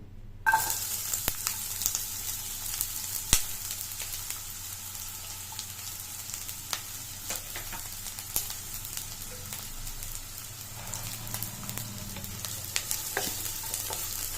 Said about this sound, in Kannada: ಈಗ ಆಯಿಲ್ ಹೀಟ್ ಆಗಿದೆ ಸೊ ಅದ್ರ ಜೊತೆಗೆ ಈಗ ನಾಟಿ ಈರುಳ್ಳಿನ ಆ್ಯಡ್ ಮಾಡ್ಕೊಳ್ಳಿ